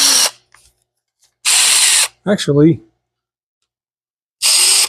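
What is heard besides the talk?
power drill running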